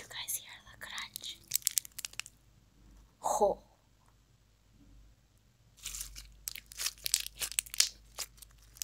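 Crunchy foam slime squished by hand, giving crackling, crinkly crunches in bursts before and after a short spoken exclamation.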